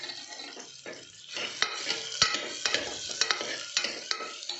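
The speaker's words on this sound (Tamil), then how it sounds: "அது வரைக்கும் ஆனியனை நல்லா வதக்கிக்கலாம்." Onions sauté in a pan for sorakkai sambar, sizzling close with frequent sharp scrapes and clinks of a spatula against the metal, alone without talk.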